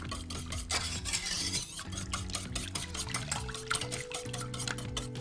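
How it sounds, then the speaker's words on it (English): A whisk is beaten steadily through ingredients in a bowl to dissolve sugar crystals, making rapid rhythmic scraping and clinking close up, with no talking. "All you're gonna do is just whisk all of the ingredients together"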